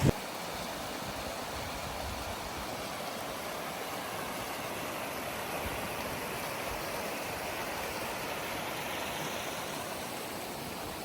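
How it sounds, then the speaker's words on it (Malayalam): Aruvikkuzhi waterfall roars in a steady, broad wash of rushing water, even and continuous throughout with no voices. "നമുക്കിവിടെ വെള്ളത്തിൻ്റെ ഇരമ്പൽ കേൾക്കാവുന്നതാണ്."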